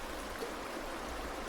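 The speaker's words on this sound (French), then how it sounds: "Je dirais que j'entends un gros bruit de cascade." A river with small waterfalls rushes in a steady, broadband roar that stays even and continuous throughout, close and fairly loud, with no voices.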